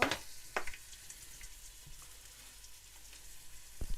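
Soft, quiet sizzling of onions frying in butter, with a few sharper crackles and pops near the start and end.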